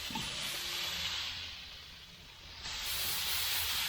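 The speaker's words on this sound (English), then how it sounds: "we're going to spritz it too. Just kind of want a steam effect in there too" Liquid spritzed onto a brisket inside a Lang 84 Deluxe smoker gives a steady, fairly quiet hiss of spray lasting a few seconds, with no talking.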